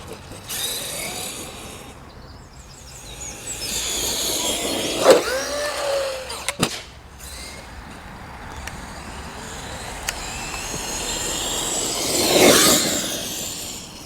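Maxx V2 RC car, upgraded with new shocks, driving with a fairly quiet electric whine that rises and falls, with a louder surge of motor noise near the end and a few sharp clicks along the way.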